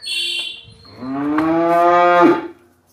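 A Holstein Friesian heifer calf at a dairy farm gives one long, loud moo that swells and cuts off, with a short higher call just before it.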